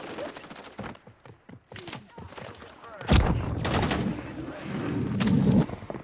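Rapid gunfire from Warzone 3 crackles in dense bursts, with single shots early and a loud sustained barrage in the second half, mixed with game sounds.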